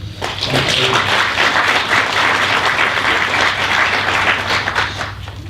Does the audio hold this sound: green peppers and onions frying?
no